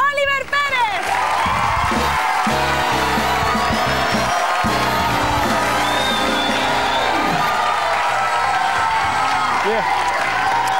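A TV gala studio audience bursts into loud, sustained applause and cheering for young performer Oliver Pérez, dense clapping mixed with whoops and excited high shouts, filling the room steadily from start to finish.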